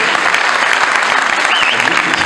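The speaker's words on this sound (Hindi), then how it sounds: "कुछ तालियां बजाइए" An audience claps in a dense burst of applause at a poetry recital, loud and close, with crowd voices mixed in and no clear words.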